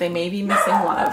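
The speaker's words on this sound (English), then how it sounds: "Oh, sorry about that. That's my dog." A pet dog barks indoors in short, close yelps overlapping a woman's speech.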